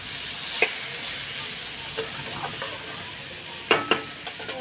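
Potato fry is stirred in a pan of oil, a soft low sizzle broken by a few sharp scrapes and clacks of the spatula, two close together near the end, with no talk.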